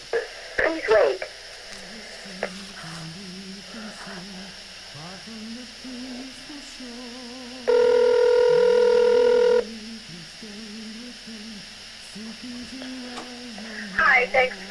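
Telephone line tones during an automated call-connect sequence, a steady multi-tone signal lasting about two seconds between stretches of recorded voice prompts.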